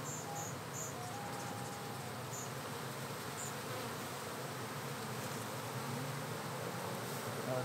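Honeybees swarming an open-air hive, a dense, continuous buzzing hum that stays even and fairly faint, heard alone without talk.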